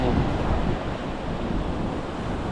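Ocean surf washes steadily on a beach as a continuous broad rush, roughened by wind buffeting the microphone.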